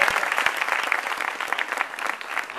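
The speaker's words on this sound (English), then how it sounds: "let's give a round of applause to Robert" Crowd applause at a USC alumni event aboard the U.S.S. Midway, a close, lively patter of many hands clapping steadily with no voices over it.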